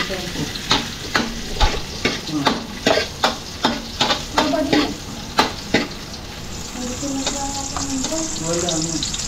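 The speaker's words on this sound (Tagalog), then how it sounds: "Tigigisa na natin itong sibuyas at bawang" Onion and garlic sauté in a pan with a steady sizzle, while a utensil stirs and scrapes in a regular rhythm of sharp strokes, close and fairly loud.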